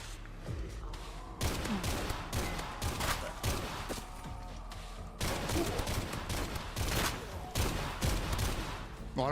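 Rapid bursts of submachine-gun fire in a video game, crackling in dense clusters with short pauses between them, mixed with other game sounds and occasional talk.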